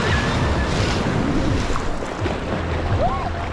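Ocean surf surging onto a Sri Lankan beach, a loud continuous wash of breaking water with wind buffeting the microphone and a brief voice and shout in the mix.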